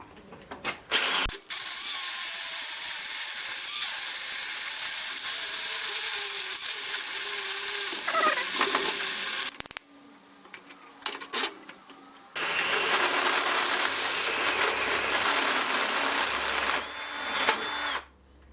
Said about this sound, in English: let's try this with a cordless drill